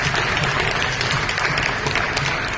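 A church congregation at Fatima Church claps together in steady, dense applause, close and even for a couple of seconds with no talk over it.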